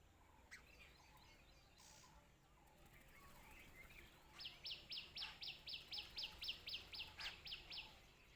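Small birds near a chilbil tree in a village chirp in a quick, steady series of bright, evenly spaced notes, faint and a few feet away, over soft outdoor background noise.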